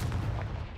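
A Confringo fire spell blasts in the Hogwarts Legacy video game, giving a short, deep, booming burst with a rumbling low end that stays loud for under a second, no voices present.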